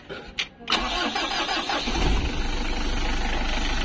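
A 4D56 diesel engine, just repaired after overheating, cranks briefly, catches, and settles into a steady low idle close by, with a little talk in the background.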